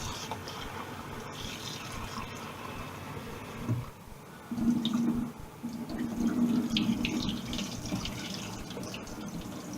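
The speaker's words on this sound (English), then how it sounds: "So just stick the hot tap on it and give it a wash first of all, give it a wee rinse." A hot water tap runs into a kitchen sink to rinse a pan of leftover mash, a continuous splashing, gurgling flow that shifts in tone as the water hits the pan.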